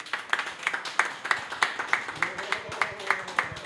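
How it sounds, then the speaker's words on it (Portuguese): Steady rhythmic clapping from a crowd at the ABCCom 2015 forum in Brasília, hands striking in an even beat about three times a second, with a voice briefly audible underneath partway through. "Nosso aplauso para você que nos assistiu."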